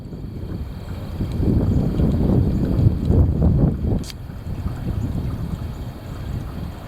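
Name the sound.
heavy wind blowing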